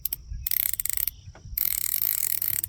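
A fishing reel's drag clicks in rapid ratcheting bursts as line pays out with the drag loosened, two long runs of dense clicking separated by brief pauses, close and fairly loud with no talk.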